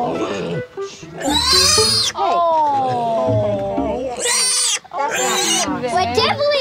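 Loud, shrill piglet squeals come in several sharp bursts with short gaps, some long and wavering, close to the microphone, with no other sounds in between.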